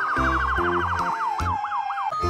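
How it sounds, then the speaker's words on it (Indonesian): A toy ambulance siren wails in a fast warbling rise-and-fall that slows into longer sweeps, close and loud, over intermittent low clunks from the toy. "Wow, lihat teman-teman, ada mobil ambulan."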